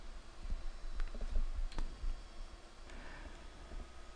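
Computer mouse clicks while working in CAD-CAM software, a few faint, sharp clicks spaced irregularly over a low background hum, close by and with no speech.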